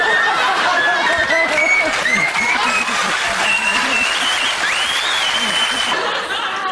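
A studio audience at a German TV comedy show breaks into sustained, loud applause mixed with chuckles and crowd chatter, welcoming a guest who brings a magic flute.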